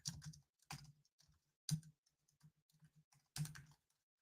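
Computer keyboard typing in four short bursts of keystrokes separated by brief pauses, close and fairly quiet, with no talking.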